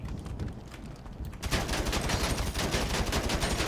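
Gunfire in GTA 5 Online: after a quieter stretch with a few scattered shots, a rapid sustained burst of automatic fire erupts and keeps crackling steadily, loud and close.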